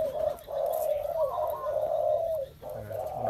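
A male mutant spotted dove coos in long, resonant, near phrases, with a brief pause before the call resumes.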